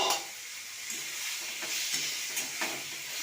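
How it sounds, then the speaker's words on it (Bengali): Fried potato and pointed gourd stir-fried in a spice mixture for a soybean dish, with a loud, steady sizzle up close and a few soft scraping strokes of a spatula. "আলু পটলটা দিয়ে ভালোভাবে একটু কষিয়ে নেব।"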